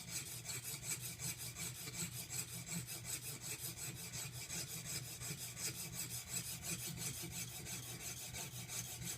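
A woodworking chisel being sharpened by hand: a steady, close rasping rub of steel on a stone, repeating in a fast, even back-and-forth rhythm with no pauses.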